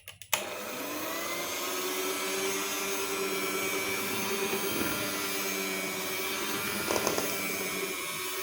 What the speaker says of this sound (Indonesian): coba kan saya mixer sebentar, di mixer sebentar lah ya